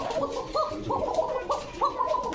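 Pigeons coo in a repeated throaty rolling rhythm, several calls close by over a faint background, with no talk.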